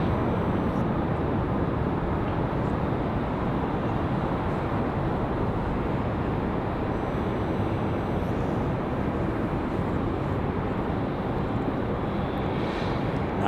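An Air France 777 airliner at Raleigh-Durham (RDU) airport gives a loud, steady broadband roar that holds evenly for the whole stretch, with no voices over it.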